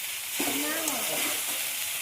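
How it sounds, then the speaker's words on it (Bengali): Sago pulao with fried potato sizzles in a pan as it is stirred, a steady close frying hiss with a brief voice-like tone rising partway through. "তারপরে জিনিসটা নাড়লাম"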